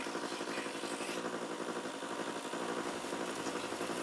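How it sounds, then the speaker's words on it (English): Belt sander running on plywood layers while shaping a cosplay Klingon Mek'leth blade, a steady dense motor whine with gritty abrasive hiss, continuous and close, with no speech. "Now I move to the belt sander."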